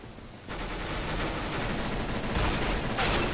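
Rapid MP9 submachine gun fire in a Counter-Strike: Global Offensive gun game match, a dense continuous crackle of shots at steady loudness throughout, with no voices over it.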